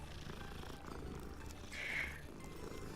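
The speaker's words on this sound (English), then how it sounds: "Cat." A cat purrs in a video game, a soft low rumbling purr with a brief brighter chirp-like swell midway, faint and close under a quiet background.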